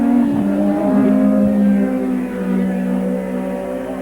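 Alain Prost's Marlboro McLaren racing car at the 1985 British Grand Prix, its engine a loud sustained whine shifting pitch as it brakes into the chicane and accelerates away.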